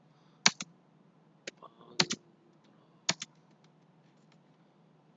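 Typing on a computer keyboard in a quiet room, with scattered keystroke clicks arriving in short bursts and pauses, fairly close and crisp over a low steady background hum.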